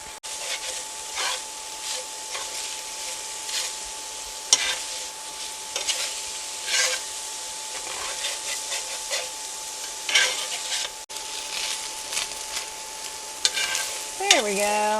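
Ground meat browns in butter in a pan with a steady close sizzle, broken by repeated scraping and stirring strokes from a utensil, plus a brief tonal squeak near the end.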